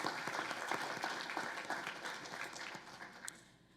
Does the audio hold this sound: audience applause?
yes